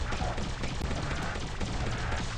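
An enemy turret's big gun fires a dense, continuous barrage in the video game Bombastic Brothers, loud and close, with rapid overlapping bursts and no break.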